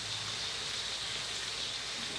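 Rain falling on a corrugated zinc roof awning, a steady dense hiss of drops drumming on the metal, even and continuous, fairly faint, with no voices.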